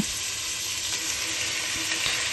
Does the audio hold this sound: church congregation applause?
no